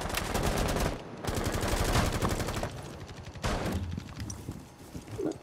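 Rapid bursts of gunfire from Rainbow Six Siege fill the scene, loud and close. Volleys run almost continuously, with a short gap near the one-second mark and another lull midway.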